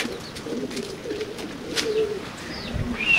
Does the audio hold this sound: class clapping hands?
no